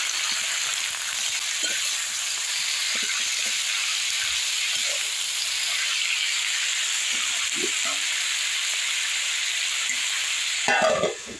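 Potato bhujia frying and being stirred in a pan on a low-to-medium gas flame, a steady sizzle throughout with faint scraping stirs, and a louder clatter at the very end.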